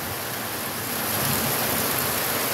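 Heavy rain falling in Limón, a steady dense hiss of downpour that swells slightly louder midway, continuous and without voices.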